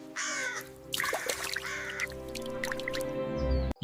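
A crow in an animated story, cawing in a few harsh overlapping calls, close and loud, over a steady low hum and soft background effects.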